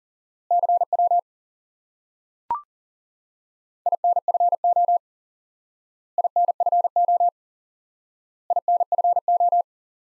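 Morse code CW tone in a repeated single-element drill, four short bursts of rapid identical beeps separated by silent gaps, with one brief click between the first two groups.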